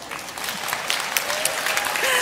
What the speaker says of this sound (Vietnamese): Khóc cũng vỗ tay.